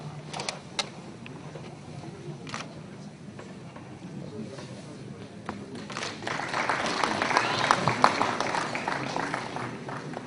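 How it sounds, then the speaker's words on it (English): An audience at a neurological surgeons' conference in India claps. The applause starts faint and scattered, then swells into fuller clapping in the second half, with a speaker's voice at a microphone. "a big applause to Professor Abdullah."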